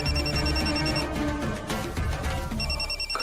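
A telephone rings in repeated electronic trills, with a pause in the middle before the ringing resumes, set against a dense dramatic music bed in a Hindi TV serial scene, with no speech.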